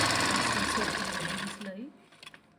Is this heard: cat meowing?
no